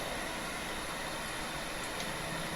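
A tractor engine in the Farming Simulator 25 video game runs with a steady, loud, continuous mechanical drone and no talking.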